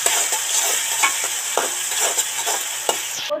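Onion, tomato and ginger-garlic paste fry with a steady sizzle while a utensil stirs them in a pan, giving a run of soft scraping strokes over the continuous frying hiss, close and alone.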